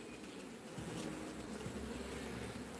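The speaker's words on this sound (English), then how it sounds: "We got bees down there." Honeybees around an opened hive give a faint, continuous low buzzing hum, steady and soft throughout with no talk.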